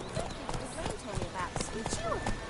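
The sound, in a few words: horse Roach's hooves clip-clopping, from a video game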